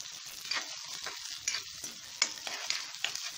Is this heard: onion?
yes